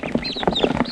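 Farm fowl clucking and chattering inside a shop near a goose, a quick cluster of close, nasal calls in under a second.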